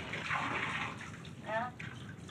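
Water splashes and sloshes in a bath as an orangutan is washed, a continuous watery wash with a couple of louder swells, close by, under a voice speaking.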